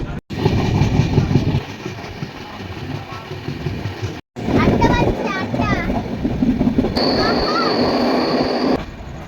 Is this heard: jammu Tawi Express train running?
yes